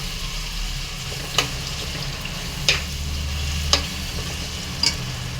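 Ground masala fries in a pan with a steady background sizzle, punctuated by four brief, evenly spaced scrapes or clinks of stirring.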